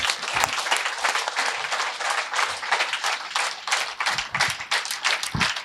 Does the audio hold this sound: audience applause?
yes